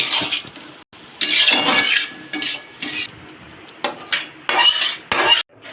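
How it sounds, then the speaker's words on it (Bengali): Dishes and utensils are washed in a home kitchen, with metal clinks, clattering pans and scraping in irregular bursts, loud and close, broken by short pauses. "এবার মা বাসনও ধুয়ে নিচ্ছে সাথে সাথে"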